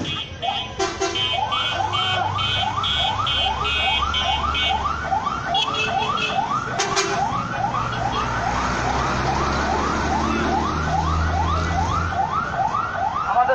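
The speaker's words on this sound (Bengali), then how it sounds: "গাড়ি আসছে আমরা শব্দ শুনতে পাচ্ছি" A fire service vehicle arrives for a Fire Service and Civil Defence drill in Meherpur, its siren wailing in steady repeating rises and falls, loud and near, with occasional horn-like blasts over low engine rumble.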